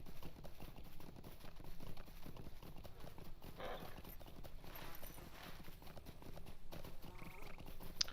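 Horse hooves clop in the Lord of the Rings Online video game, a quiet, continuous rhythmic trotting that runs throughout alongside faint game ambience.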